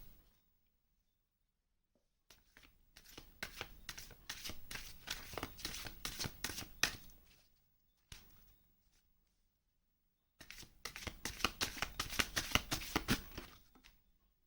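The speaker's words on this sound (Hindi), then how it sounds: "सो चलिए आप लोगों के लिए मैं कुछ और कार्ड्स निकाल लेती हूँ।" Tarot cards being shuffled and drawn by hand, two long bursts of rapid papery riffling and flicking separated by a short pause, close and fairly quiet.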